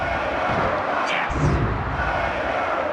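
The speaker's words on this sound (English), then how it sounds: "This crowd is going berserk." A loud arena crowd roars and cheers continuously in an Acclaim wrestling video game, with a brief swell of yelling midway.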